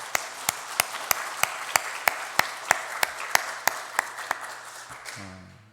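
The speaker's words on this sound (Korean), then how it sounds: "하나님 앞에 우리 영광의 박수 올려드리겠습니다" Steady rhythmic clapping rings out in even beats over a congregation's applause at a Sunday church service, then tapers off as a low hum remains.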